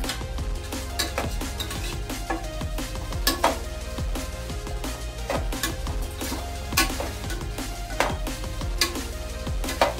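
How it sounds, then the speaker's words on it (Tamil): Rice is stirred in a pan with spices and avarakkai for a variety rice dish. Steady sizzling runs under repeated sharp scrapes and clinks of a spoon against the metal. "அரிசியை நல்லா நல்லா கிண்டி விட்டுட்டு"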